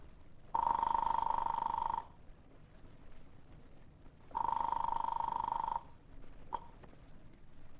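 Telephone ringing on the line after a call is placed in a radio drama, two long steady electronic rings separated by a pause of quiet line hiss, followed by a faint click.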